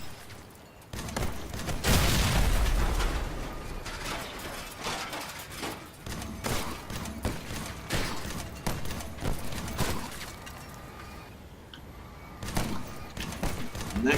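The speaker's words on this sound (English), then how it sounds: "You get push back, knock back, plus explosions." Retro weapons firing in the Crossout vehicle combat game, producing a barrage of loud, rapid explosive bursts and cracks that repeat throughout, with mechanical clatter between blasts.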